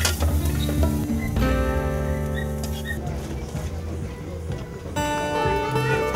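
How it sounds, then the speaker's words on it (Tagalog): Food frying in hot oil until crisp, a steady sizzle under tonal background music with faint voices in places. "Iprinito hanggang lumutong."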